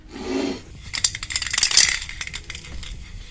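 A nearly empty spray paint can rattles and scrapes in quick, irregular shakes, close by and moderately loud, after a short low rumble at the start.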